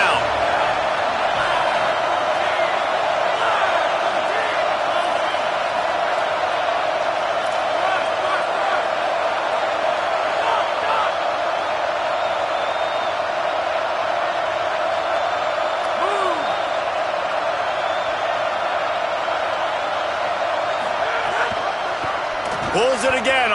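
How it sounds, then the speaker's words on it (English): A football stadium crowd roars steadily, cheering on the defense during a third down, with a sustained loud wall of noise under a commentator's voice. "Decibels rising as the crowd gets behind this defense on 3rd down."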